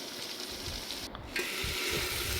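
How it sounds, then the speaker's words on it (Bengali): Medium-cut cabbage is stirred in a hot frying pan, making a steady, close sizzle with soft scraping and tossing sounds throughout. "বাঁধাকপিগুলোকে দিয়ে একটু নাড়াচাড়া করে নেব।"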